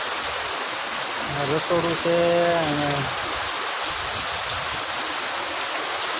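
Rainwater flowing through a village market street after heavy rain, a steady, close rushing wash that fills the whole stretch, with a voice speaking briefly over it early on.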